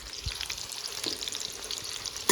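Food sizzling and frying in hot oil, a continuous crackling hiss with scattered pops and one low thump, moderately loud and steady with no voices.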